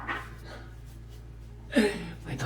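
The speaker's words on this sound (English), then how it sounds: "My dog just barked at nothing." A dog indoors gives a quick bark and a couple of short, breathy yelps, moderately faint, with quiet stretches between.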